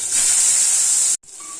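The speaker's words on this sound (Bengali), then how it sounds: "আলুগুলো আমি ভেজে নেব, একটু ভালো করে ভেজে নেব" Potatoes drop into hot oil left over from frying fish and set off a loud, steady sizzling hiss that breaks off briefly, then resumes more softly.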